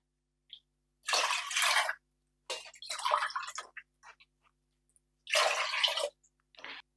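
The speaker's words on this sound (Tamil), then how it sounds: "நாலு கிளாஸ் தண்ணி ஊற்றுறேன்" Four glasses of water are poured into a pot for cooking varagu millet rice, a splashing stream starting and stopping with short pauses between pours.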